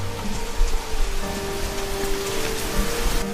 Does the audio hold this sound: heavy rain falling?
yes